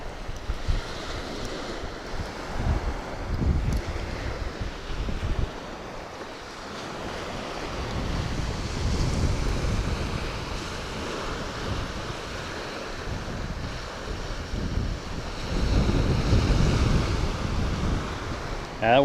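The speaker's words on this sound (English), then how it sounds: "that wind is blowing right at my back. So it's more of a south wind." Steady wind blowing across a microphone on the Florida Gulf coast during a fishing outing, with surf washing in underneath; the gusts rise and fall throughout, loud and close.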